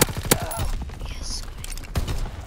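Gunfire in Call of Duty WWII team deathmatch on PS4: a cluster of quick shots at the start, then a lone sharp report later, with talk and in-game noise between the shots.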